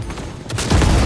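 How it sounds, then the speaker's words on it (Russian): Loud, close gunfire in the video game Cyberpunk 2077: a dense burst of shots building into a heavier, sustained volley over about a second, with no speech. "Кто стреляет?"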